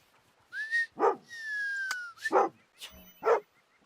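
A hunting dog in theHunter: Call of the Wild, set in New England mountains, gives a few short separate barks close by, mixed with whistle-like game tones and quiet gaps.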